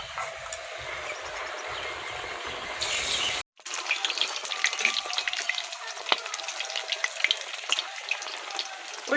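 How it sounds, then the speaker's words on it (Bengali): Fish roe pakoras made with gourd leaves fry in hot oil in a wok, giving a steady crackling sizzle with dense pops; a brief clatter comes early, then a near-silent gap before the frying resumes loud and close. "উল্টে পাল্টে ভাজা করে নিচ্ছি।"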